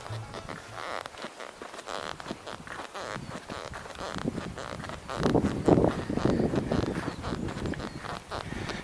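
Rhythmic creaking of donkeys' saddles and clopping hooves along the St. Paul Trail, soft and close, with occasional rustling.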